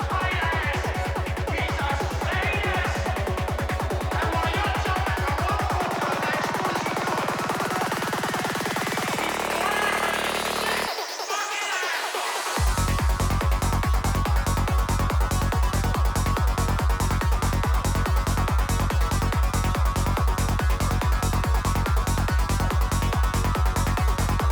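A psytrance track plays back loud and dense, with a rolling, rapid pulsing bassline, sweeping synth layers, a brief drop-out breakdown, then a driving steady beat resuming without any speech.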